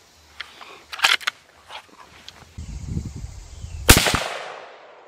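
A 6.8 Western rifle fires at an outdoor range during a 100-yard ammunition test, one sharp, loud shot near the end ringing into a decaying echo, with a few faint clicks and handling knocks before it.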